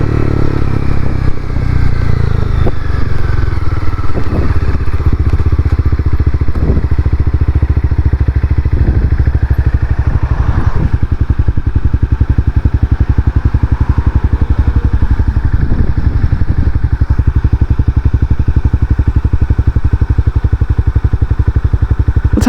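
A Honda CBR300 motorcycle hums steadily while being ridden, with a continuous engine drone and wind rumble throughout, loud and close, broken by occasional faint clatter and no talk.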